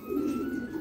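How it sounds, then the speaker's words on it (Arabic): A pigeon coos once, a short, low, throaty call heard close and clear over faint background noise. "كل الحمام لحقت وراي"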